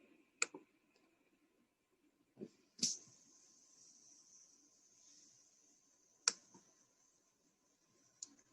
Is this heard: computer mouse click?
yes